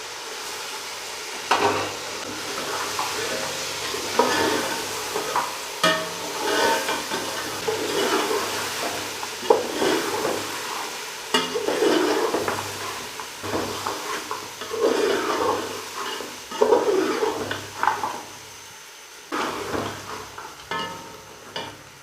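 Pre-softened meat for Afghani palao being stirred and fried in a pot: steady close sizzle with repeated scraping and stirring knocks, fairly loud and continuous, no talking.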